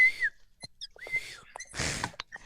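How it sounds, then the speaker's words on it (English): A person whistles a few short melodic phrases during an online improv acting class, close and clear, with gaps of breath and small mouth noises between them. "I can't whistle like that."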